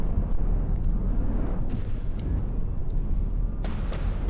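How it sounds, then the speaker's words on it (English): Torpedo explosions in From The Depths rumble as a dense, continuous low roar, with sharper cracks and blasts breaking through near the end. "Oh, those are torpedoes."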